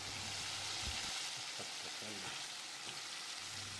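A quarter kilo of eggplant, sliced lengthwise, goes into a pan of sautéed onions and tomato for a dried-fish curry. It sets off a steady, soft sizzle with a few stirring clinks.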